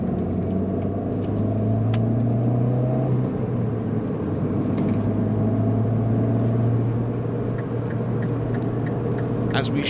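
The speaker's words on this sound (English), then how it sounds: "So let's give it some beans. Let's get up to highway speed and let's see what we're dealing with." Engine and road noise from a 2007 Mini Cooper S accelerating up to highway speed, a steady loud drone and rumble with rising tones throughout, heard from inside the car.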